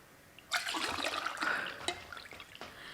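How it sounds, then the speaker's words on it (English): Liquid is poured into a new coffee cup beside a Nespresso machine, a soft close trickle and splash running for about two seconds and then tapering into drips. "So let me just gonna pour this in there."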